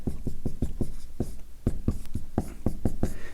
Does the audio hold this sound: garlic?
no